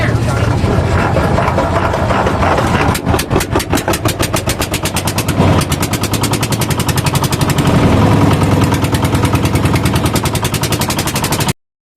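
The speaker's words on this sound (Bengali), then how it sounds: "দেখো কিভাবে নৌকা স্টার্ট দেয়" A small boat's engine cranks and fires into a loud, rapid chugging rhythm that continues steadily, close by and dominant, before cutting off at the end.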